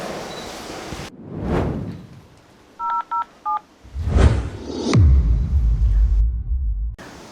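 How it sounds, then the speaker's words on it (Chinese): Telephone keypad tones dialing to call a doctor: a quick burst of short, evenly spaced beeps, loud and close, preceded and followed by heavy rumbling whooshes and thuds. "以防万一，我现在就给医生打电话确认一下。"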